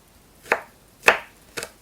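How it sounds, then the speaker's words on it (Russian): Garlic is chopped with a knife in three separate, crisp strikes against a cutting board, close up in a quiet kitchen with no talk. "потом это все режу"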